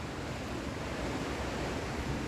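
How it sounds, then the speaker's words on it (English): Rushing water of a stream near old cottages and a possible mill, a steady dense roar of flowing water heard close and continuous, with no voices. "I'm hoping the sound of the rushing water will do it."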